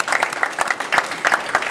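Church congregation applauding during a baptism service, brisk, fairly close clapping with uneven bursts for a brief moment.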